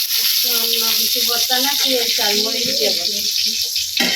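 Dried red chillies frying in a pan for an onion-chilli mash make a steady, close hissing sizzle that runs throughout, partly under a person talking.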